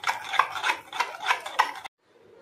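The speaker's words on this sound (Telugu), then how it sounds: "ఇదిగోండి రోట్లో వేసి దంచాను, మెత్తగా అయిపోయింది." Stone pestle grinding and pounding chutney in a stone mortar, a rhythmic series of five or six rough strokes close by, stopping abruptly.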